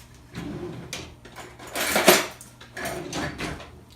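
Metal teaspoons clink and rattle against dishes and measuring tools in a kitchen, a close series of bright scraping clatters with one louder jangle in the middle.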